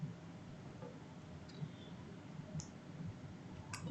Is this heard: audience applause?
no